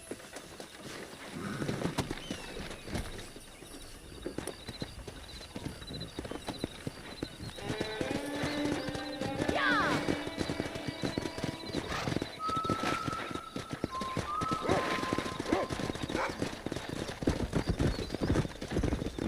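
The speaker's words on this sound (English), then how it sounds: "Let's see if we can't wrangle some horses." Hooves pound rapidly as horses gallop in Red Dead Redemption, with several high whinnies and neighs rising over the steady clatter, loud and close throughout.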